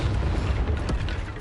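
A spell-cast effect for Expelliarmus in the Hogwarts video game: a dense, booming burst with a sustained low rumble over about a second and a half, loud and close, with no talk.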